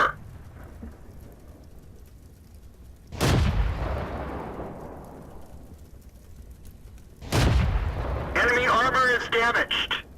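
A tank cannon in World of Tanks fires twice, each a heavy booming blast with a long rolling decay, spaced a few seconds apart, followed by a rattling mechanical clatter.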